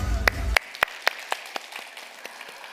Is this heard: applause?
yes